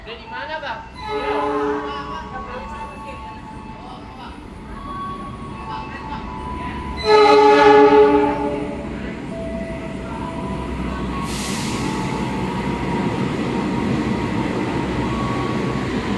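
Argo Parahyangan passenger train on the Bandung–Jakarta Gambir route rolling through a busy Jakarta station, a steady rumble of wheels and carriages with a loud horn blast near the middle; voices murmur underneath.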